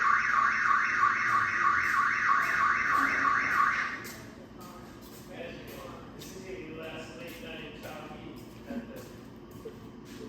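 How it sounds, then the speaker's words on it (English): A building security alarm sounds at a back entry door, a loud repeating electronic warble for about four seconds before it cuts off. Quieter room noise and voices follow. "Alarm back entry door."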